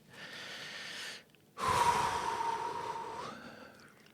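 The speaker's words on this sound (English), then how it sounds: "Nice big deep breath." A slow, deep breath drawn in and let out during a calm tapping and relaxation exercise, close and airy, with a brief pause between the two long breath sounds.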